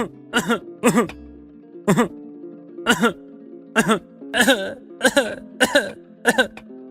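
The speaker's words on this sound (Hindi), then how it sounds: "तभी दोनों चोरों को भी खांसी आ जाती है और वो दोनों ही खांसने लगते हैं।" Two men's repeated harsh coughs and throat-clearing in a steady series of about a dozen bursts, close and loud.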